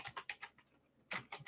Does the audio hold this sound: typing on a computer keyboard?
yes